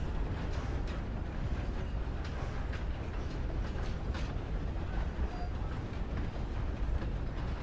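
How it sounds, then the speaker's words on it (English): A train rolls along the rails in a video game, a steady loud rumble with faint rhythmic clatter running unbroken throughout, with no talking. "we're hitching aboard a ride aboard this train here to the safety of another safe town"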